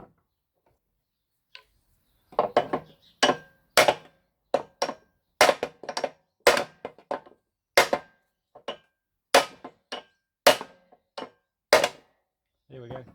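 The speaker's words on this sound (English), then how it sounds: "but a couple of hammers will jar it off because it is on a taper." Hammers strike sharply and repeatedly, about a couple of blows per second in an irregular rhythm, to jar a part off the taper of a 1975 Victa lawnmower; the metallic knocks are close and loud between silent gaps.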